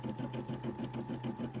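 A Brother SE 600 embroidery machine stitching in a fast, even rhythm of rapid repeating needle strokes over a steady motor hum, close and moderately quiet, with no talking.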